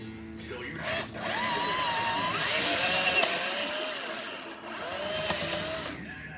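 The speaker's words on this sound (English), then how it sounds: "Drilling holes in the old metering well plugs so we can put in the new ones." A power drill whines and bites into the old metering well plugs of a Rochester Quadrajet carburetor, its pitch rising and falling under load, with brief pauses between bursts.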